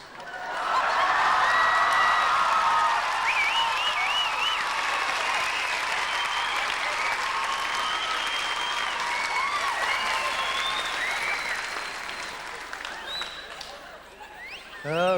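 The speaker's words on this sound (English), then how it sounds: "Oh, what a great round of applause that was." Sustained audience applause at a live comedy show fills the stretch, loud and dense with scattered laughter and cheering mixed in, then thins and fades toward the end.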